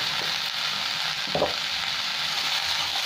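Vegetables for sambar dal, seasoned with salt and a little turmeric, fry in a pan with a steady close sizzle, broken by one brief stirring scrape partway through.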